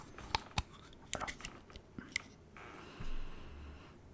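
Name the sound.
mouth sounds while tasting an INSHAPE product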